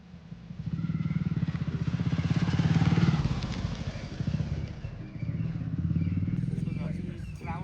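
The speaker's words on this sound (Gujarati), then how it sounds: "અમે વડનગર થી બાઈક પર નીકળી જઈએ ઘરે જવા માટે" A motorbike rides out of Vadnagar toward home on a cold day, its engine a steady, close drone with surging revs throughout, and voices faintly beneath it.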